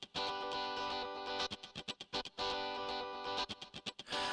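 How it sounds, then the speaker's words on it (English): Electric guitar with heavy distortion insert effect on a Korg Pa4X arranger keyboard plays sustained, buzzing chords broken by short choppy stabs, loud and close with no voices. "The guitar is already using one of the 4 insert effects, a distortion effect."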